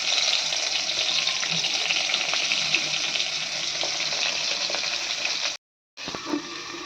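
Pointed gourd slices fry in oil in a pan, a loud continuous hiss and sizzle throughout with a brief cut near the end, no speech.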